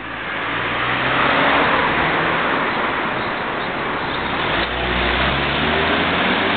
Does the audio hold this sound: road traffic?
yes